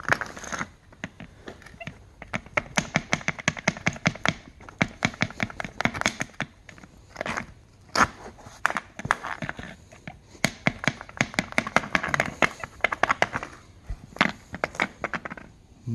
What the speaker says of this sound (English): I took this little ball peen, I just tapped a little bit right here, and it got it loose